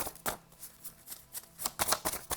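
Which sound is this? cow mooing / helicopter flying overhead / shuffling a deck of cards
shuffling a deck of cards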